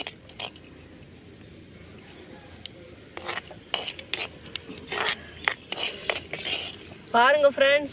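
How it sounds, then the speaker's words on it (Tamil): Two ladles stir cashews, almonds and raisins frying in ghee in a large pot, giving intermittent metallic scrapes and clinks that grow busier and louder toward the end, close to the listener. "ரொம்ப பெரிய பாத்திரம் பாரு, அதனால 2 கரண்டி வச்சு கிண்டிட்டு இருக்கீங்களா?"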